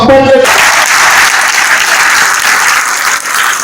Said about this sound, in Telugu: మరి అలాంటి విజయాల వల్ల మనమందరూ విజయాలు అందుకోవడానికి కరతాల ధ్వనితో చప్పట్లు.